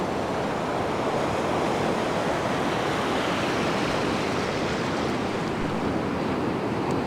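Rough sea surf and strong wind roar continuously at the Antarvedi lighthouse coast the day before Cyclone Montha. The broadband noise is loud and unbroken for the whole stretch, with no voices.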